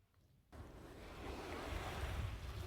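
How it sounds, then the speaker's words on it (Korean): Ocean waves breaking on the shore, starting abruptly and building into a steady, continuous wash of surf with some wind, heard alone with no voices. "오로지 파도 소리에만 집중해 보세요."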